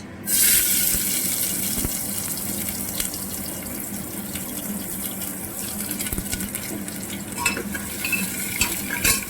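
Tempering spices stirred in hot oil for ghugni, a continuous close sizzle and fry with scraping stir strokes and a brief louder burst at the start, no voices.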